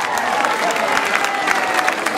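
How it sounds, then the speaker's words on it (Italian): An audience at an evening dinner event applauds, a dense and steady burst of many hands clapping close by throughout. "Un applauso anche a Franco."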